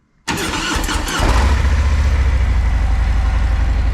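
A Harley-Davidson motorcycle with about 8,200 miles and a quiet stock exhaust fires up abruptly after a brief silence, catches, and settles into a loud, steady, throbbing idle close by.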